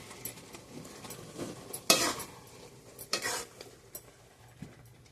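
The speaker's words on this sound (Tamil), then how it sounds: "தேங்காய் ஆட் பண்ணிவிட்டு நல்லா கிளறி விடுங்க" A spoon scrapes and stirs through drumstick leaves with coconut in a pot, in a few separate swishing strokes over a soft simmering hiss.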